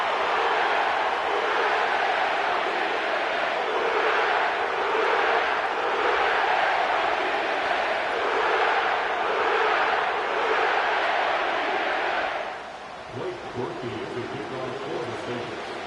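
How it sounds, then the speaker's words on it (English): Stadium crowd in the Caesars Superdome in New Orleans cheering loudly and steadily during an NFL playoff game in EA Sports Madden NFL, a dense roar that swells and then drops off near the end. "The crowd is alive, and with good reason."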